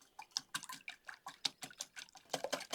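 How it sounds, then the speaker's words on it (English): Eggs whisked in a bowl for a breakfast quesadilla, a quick, quiet run of rhythmic clicking taps, close and alone. "So let's whisk this together."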